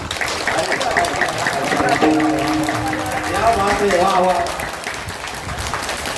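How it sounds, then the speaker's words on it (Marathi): A kirtan audience claps loudly together in a dense burst, with a voice calling out and singing over the applause. "वाजवा जोरात टाळी सर्वांनी"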